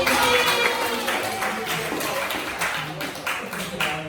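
A classroom audience applauds during a teaching practice session, a dense patter of clapping that goes on throughout and slowly thins, with voices mixed in.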